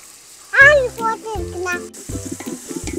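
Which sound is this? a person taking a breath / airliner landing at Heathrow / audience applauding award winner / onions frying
onions frying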